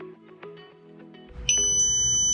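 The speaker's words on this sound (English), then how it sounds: "we should get a long beep" After a short stretch of faint clicks and murmuring, a loud, sustained high-pitched electronic beep from a Mini ACDP key programmer starts abruptly and holds steady to the end.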